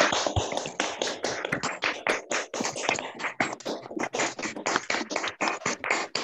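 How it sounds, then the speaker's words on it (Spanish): A crowd applauding for Gracia over open microphones, dense and continuous clapping close up and loud throughout, with no talking. "le vamos a brindar un fuerte, fuertísimo aplauso a Gracia"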